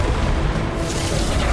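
A Bombarda explosion spell in the video game Hogwarts Legacy, a loud continuous booming blast with dense low rumble filling the whole moment.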